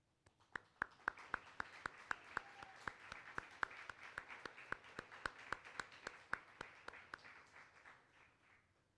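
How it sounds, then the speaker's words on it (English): Faint, distant applause for scholarship recipients at an anti-trafficking annual meeting at a university: a thin, evenly paced run of claps that slowly tapers away. "we'll give you a round of applause"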